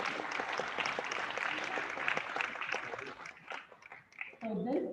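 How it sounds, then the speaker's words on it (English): An audience claps warmly after girls' Bharatanatyam arangetram dance performance, a dense sustained burst of applause that tapers off toward the end as a voice begins speaking. "Another round of applause for them,"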